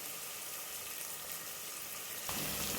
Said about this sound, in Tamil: வெங்காயம் நல்லா வணங்கி வரட்டும்.